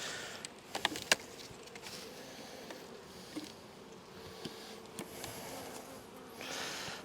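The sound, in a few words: honeybees flying around beekeeper near hive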